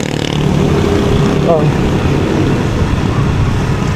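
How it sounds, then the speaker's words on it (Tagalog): A big motorcycle roars past, its loud, steady engine noise filling the scene while excited voices shout and talk over it. "Ang lalaki ng motor!"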